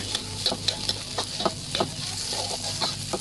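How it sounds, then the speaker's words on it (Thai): Spring onion and garlic stir-frying in oil for a curry-powder egg tofu dish, with a continuous bright sizzle and light, irregular clicks and scrapes of stirring, close up and without talk. "ใส่น้ำมันนิดนึงนะคะ แล้วเอาต้นหอมกระเทียมลงมาผัดนะคะ"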